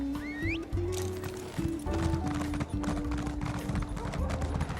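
Video-game horse hooves clip-clop in a brisk, steady riding rhythm, close and clear, with a short neigh near the start.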